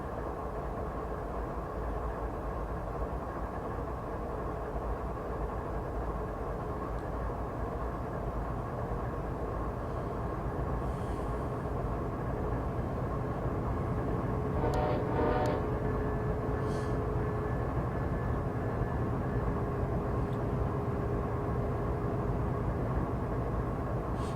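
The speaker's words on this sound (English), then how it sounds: "Got this incoming train coming in." An incoming train in Train Simulator 2015 on a Canadian mountain pass with a CP ES44AC, a low steady rumble and drone of the passing train with a brief burst of sharper clanks midway, no talking.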